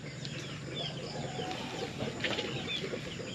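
Chickens cluck softly and continuously in the background, with occasional flutters and faint calls over a steady low hum.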